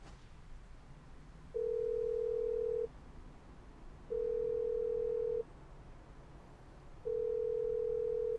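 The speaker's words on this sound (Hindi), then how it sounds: "फोन नहीं उठाया, फिर से करती हूँ।" A phone ringback tone repeats three times, steady pulses separated by pauses, with no one picking up and no talking.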